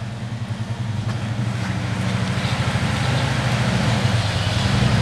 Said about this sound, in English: heard that the bike sounds as good as it looks